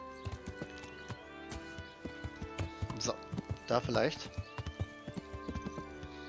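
Rhythmic horse hoofbeats clip-clop along at a walking pace in the video game Kingdom Come: Deliverance, with a horse whinnying in the middle and someone speaking briefly in German over it.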